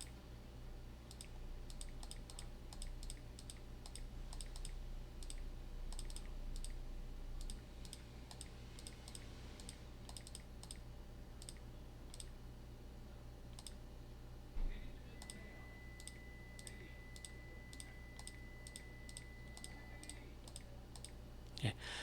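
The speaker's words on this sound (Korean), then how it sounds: "이제 여기에서 이제 보내실 문구를 누릅니다" Fingers tap out a text message on a smartphone touchscreen keyboard, a steady run of light, quick clicks repeating throughout over a low background hum.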